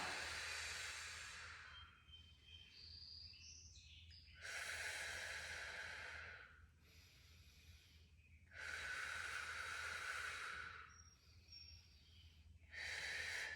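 Slow, deliberate breaths during a bear tuck exercise with knees lifted, four long airy inhale-exhale swells alternating with quieter pauses, close and soft against a low steady hum.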